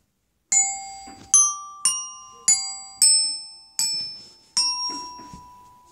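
A xylophone plays seven struck notes, G A B C D E and on, one at a time at an even, unhurried pace, each bright and decaying slowly, with faint background noise.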